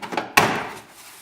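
A front interior door panel on a GMC Jimmy gives a sharp snap as it is pried loose, preceded by faint rustling and followed by a brief fading rattle.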